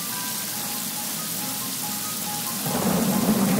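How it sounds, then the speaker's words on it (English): Steady rain from the video game Yonder The Cloud Catcher Chronicles hisses evenly under faint tonal game music, then grows heavier and louder partway through, with no voices. "maybe we're gonna have to wait until it stops raining"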